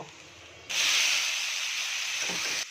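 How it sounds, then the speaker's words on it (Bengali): Boiled raw banana, cut with its skin, pouring into a hot pan of frying shrimp and tempering spices sets off a sudden loud, steady sizzling hiss that holds close and even for about two seconds, with no talking. "সিদ্ধ করা কাঁচা কলাগুলো এখন এই ফোড়নের মধ্যে ঢেলে দেব"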